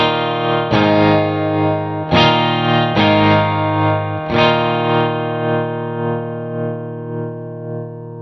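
Electric guitar chords through a Wampler Latitude Tremolo Deluxe pedal set to a quarter-note tremolo, loud and close, with several strummed chords ringing out and their volume pulsing as they sustain and slowly fade.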